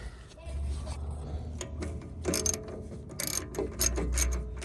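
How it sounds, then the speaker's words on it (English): A ratchet wrench clicks in short bursts while removing a 13 mm bolt from the starter power cable on a 2015 Ford F150, the metallic ticking close and moderately loud, with someone talking softly over it. "right now we're just taking the 13 millimeter bolt off the power cable"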